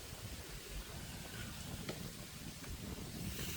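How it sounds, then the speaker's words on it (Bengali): Cold post-rain wind sweeping across wide crop fields in a village in Jamalpur district, heard as a steady, moderately loud broadband rush with low rumbling gusts and no voices. "ফসলের মাঠ থেকে বৃষ্টি পরবর্তী ঠান্ডা বাতাস বইছে"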